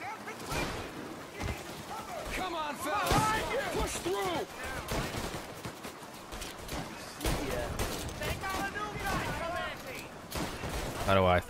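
Rapid bursts of gunfire crackle through a Mafia mission in the countryside, repeated shots and volleys scattered across the stretch, mixed with game sound effects and someone talking over it.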